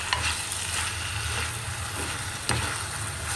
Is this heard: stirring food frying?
yes